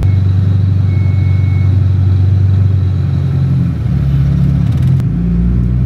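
A Honda Integra DC2 engine drones close and loud at a steady idle, its tone shifting slightly partway through before a deeper rumble takes over near the end, with no voices.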